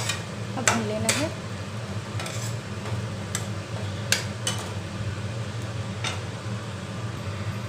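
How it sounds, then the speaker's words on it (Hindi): Rice with spices and sugar roasting in a pan for Bengali bhoger khichuri, a soft continuous sizzle under a low hum, broken by a few sharp scraping and clinking stirs near the start and occasional taps later. "इसे भी भूनेंगे। एक साथ सबको मिलाना है। अब भून लेना है।"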